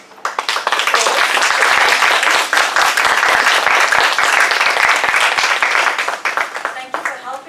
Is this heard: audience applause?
yes